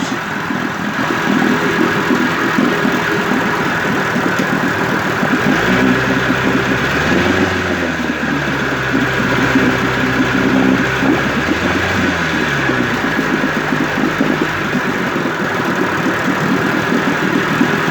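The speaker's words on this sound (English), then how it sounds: "here's the motor running with the cover on for the first time in probably 25 years" A 1958 Evinrude 18 HP outboard motor runs steadily with its cover on, a loud continuous mid-pitched engine drone with a rough, knocking idle and a couple of brief swells in pitch partway through.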